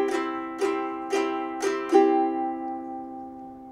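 A guitar strummed in a steady down-and-up pattern, played plainly without accents: five evenly spaced, ringing chord strums heard alone, the last one left to sustain and fade.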